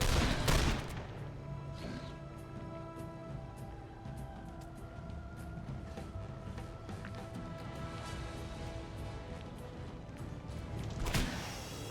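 Repeated gunfire from the video game The Lamplighters League, a loud opening burst followed by sustained rattling shots and tonal game effects over several seconds, ending with another heavy blast.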